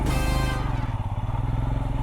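Motorcycle engine chugging in a rapid, pulsing rhythm while riding over a rough, slippery road, loud and close, with a bright rushing burst at the start that drops away.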